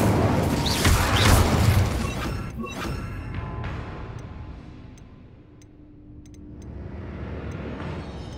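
Incendio fire spell cast in Hogwarts Legacy, a loud whooshing burst of flame with crackling at the start that fades into a quieter hiss, followed by faint ticking and clicks, with no talking.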